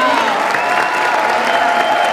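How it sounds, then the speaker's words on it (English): Brief burst of audience applause with some cheering after a children's dance performance, loud and continuous with a faint voice mixed into the crowd noise. "A round of applause for the kids and our fabulous teachers, Rachel, Daniel, and Anya."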